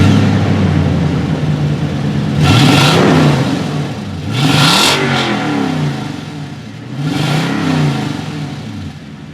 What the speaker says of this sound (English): Let's hear this V8 rev up.